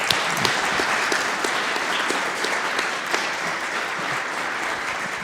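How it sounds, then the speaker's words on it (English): A conference audience applauds the panelists at the close of a cultured-meat manufacturing session, a dense continuous patter of many hands clapping throughout, fairly loud and close, with no clear speech over it. "Please give a round of applause for our panelists."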